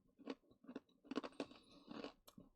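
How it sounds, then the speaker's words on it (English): Crunchy cinnamon-flavoured chips are bitten and chewed up close, a run of sharp crisp crunches in irregular bursts, with no talking. "Those are really crunchy."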